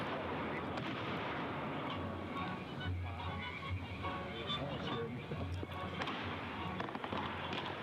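Fireworks burst in a played-back video of a crowd event, a dense run of rumbling booms and crackles layered under music, with voices talking over it.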